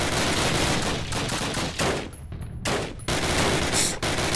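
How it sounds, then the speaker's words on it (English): Gunfire in the World War II shooter Call of Duty (2003), sustained loud bursts of rifle and machine-gun fire with a few brief gaps, close and continuous. "I believe I'm shooting him."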